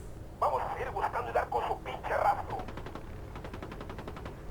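A squad opens fire in Ghost Recon Wildlands, a cluster of quick, moderately faint gunshot bursts followed by a run of evenly spaced shots fading off, under someone talking.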